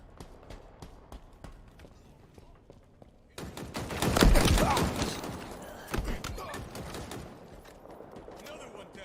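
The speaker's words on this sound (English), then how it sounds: "In a hail of gunfire." Rapid bursts of video game gunfire crackle in a dense firefight, sparse pops at first, then a loud sustained volley mid-clip before tapering back to scattered shots, with voices talking throughout.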